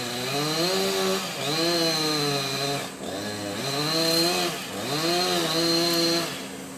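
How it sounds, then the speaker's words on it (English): A chainsaw cuts into a tree overhanging a pedestrian walkway on Miyajima, Japan, its engine revving and bogging in repeated surges. The saw runs loud and close throughout. "He had to give the nod before the man with the chainsaw could cut."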